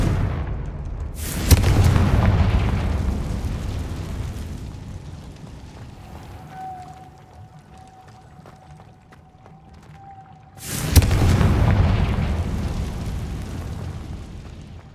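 A Confringo spell explosion in Hogwarts Legacy, two loud booming blasts several seconds apart, each with a rumbling tail fading out, and a faint tonal hum between them.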